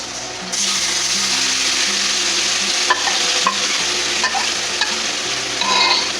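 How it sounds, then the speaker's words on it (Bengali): Marinated mutton goes into a kadai with onions for korma and fries with a loud, steady sizzle, broken by scraping and stirring knocks, heard close and without talk. "এখন আমার এই যে মাংস মাখাটা দিয়ে দেবো"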